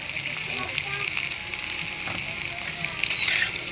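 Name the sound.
potatoes frying in pan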